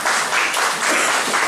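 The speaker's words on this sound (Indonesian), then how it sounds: "Tepuk tangan dulu buat para pemusik" Church congregation applauding the musicians and worship team during a service, a brief burst of mixed clapping that is fairly loud and dense, with no clear speech.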